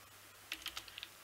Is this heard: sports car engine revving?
no